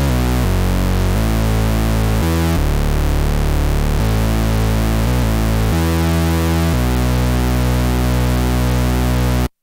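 A MicroKorg synth bass built from square-wave oscillators with a touch of added noise plays a dense, buzzy, harmonically rich line of sustained notes that change pitch every second or so, loud and continuous with no talking.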